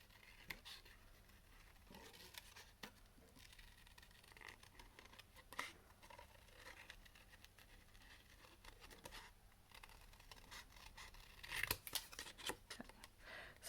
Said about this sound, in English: I'm going to cut this out with my trusty snips.